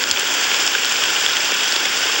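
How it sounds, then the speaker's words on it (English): Steady rain pours in Honkai: Star Rail, a dense, even hiss of falling water that stays loud and unbroken with no voices over it. "How long has this rain been going?"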